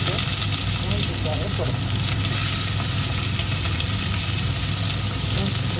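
Onions and curry leaves sizzle steadily in hot frying oil, a dense, constant crackle that stays close and loud throughout while someone speaks in Tamil over it.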